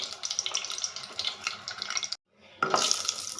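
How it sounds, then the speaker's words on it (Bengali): Dried red chili, bay leaf and cumin seeds sputter in hot white oil and butter in a wok, a close, hissing sizzle that stops for a brief moment and then resumes louder. "শুকনো লঙ্কা, তেজপাতার জিরে ফোড়ন দিয়েছি, ভাজা ভাজা হয়ে গেছে।"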